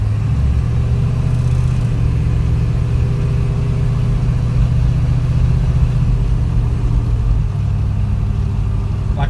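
A white and blue Ford Mustang coupe reversing, its engine holding a steady, loud, low drone with a faint mechanical hum and no change in pace.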